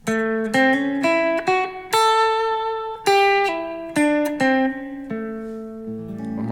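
A slow, clean blues guitar lick: single notes plucked one after another with bends and slides, each ringing briefly before the next, close and alone.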